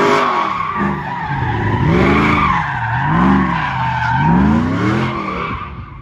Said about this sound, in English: when I was trying to do the little burnout bash in the Freedom Factory, this thing was swaying a lot